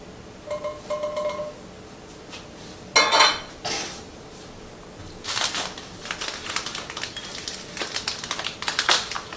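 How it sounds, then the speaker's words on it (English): Melted butter being mixed into hot seasoning and breadcrumbs in a bowl, with clinking and scraping of a utensil against the dish in short bursts, close by and without speech. "it's time to mix my melted butter in with the hot seasoning and my breadcrumbs"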